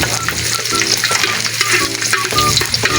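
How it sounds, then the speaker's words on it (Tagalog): Garlic sautés in hot oil in a wok as the first step of an adobo, giving a loud, continuous sizzle with stirring scrapes throughout. "Lagay na mantika. Una nating igisa ang bawang."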